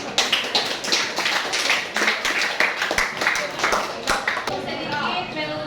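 Applause from students for a group that has just presented in a chemistry class on covalent bonds, a dense run of hand claps and taps that rises and falls steadily for several seconds, fairly close, with some chatter mixed in.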